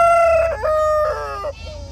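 A red nemali rooster crows loudly and close by at a Gudur poultry market, two long harmonic calls rising and trailing off in quick succession over low market background noise.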